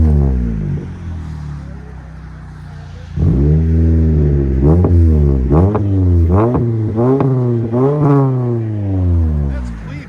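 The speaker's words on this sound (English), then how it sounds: "Magnaflow sounds good on these." A Toyota Camry SE with a 2.5L engine and Magnaflow exhaust revs repeatedly after an idle, producing a string of loud, close, rising blips with harmonic exhaust tone.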